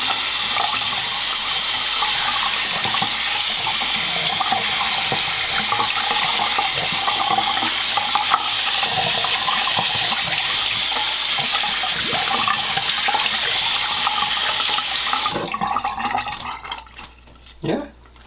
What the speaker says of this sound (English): Had the same proper hand washing technique.